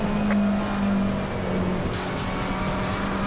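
A race car engine drones steadily at close range in a wet weather race in Assetto Corsa Competizione on PS5, a continuous hum with a faint whine and no talk.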